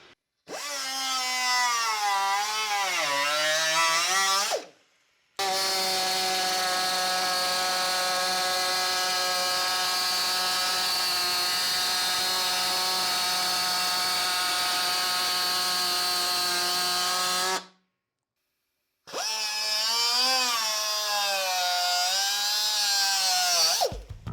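A power tool cuts metal on a Porsche 911 during an engine swap, running as a loud, steady whine in three long passes broken by two short pauses, with its pitch sagging under load at the start and end.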